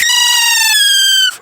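A loud, piercing whistle blown on a blade of grass between open hands holds one steady, slightly falling tone for over a second before stopping sharply.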